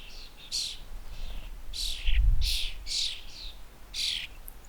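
Young starlings in a garden give a series of shrill, close chirps in irregular bursts, with a soft low rumble underneath.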